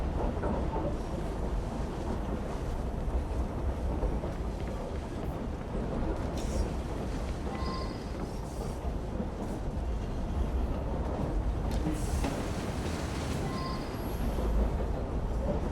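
Continuous low rumble of a train rolling along in a video game, steady and enveloping, with faint rattles and clicks over the top.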